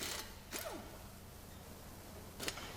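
A wrench works on the tie rod bolts and nuts of a Land Rover Discovery LR3, giving a few brief metallic clicks and squeaks over low, faint background noise.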